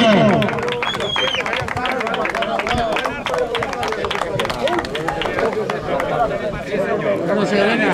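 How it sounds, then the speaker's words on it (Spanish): Crowd applauding the winner of the first regatta race at Montalbo as the mayor and organizer present the prize, clapping dense and steady throughout with lively chatter and voices mixed in. "¡Un aplauso!"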